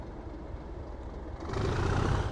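A train moves through Derby station on the Midland Main Line, a low rumbling that swells suddenly and grows louder and nearer partway through, with no voices.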